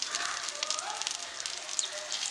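A semolina-coated pea patty fries in a pan with a steady, close, fine sizzle and scattered light crackles and pops throughout.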